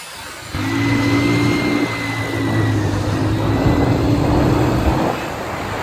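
A 100cc motorcycle engine revs up hard and holds at high pitch for a wheelie, loud and close, with the tone shifting slightly as the throttle is worked before it eases off near the end.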